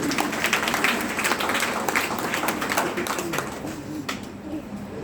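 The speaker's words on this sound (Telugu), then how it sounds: "అందరు గట్టిగా చప్పట్లు కొట్టండి" An audience at a school silver jubilee program claps together in a dense, sustained burst of applause that eases off slightly toward the end.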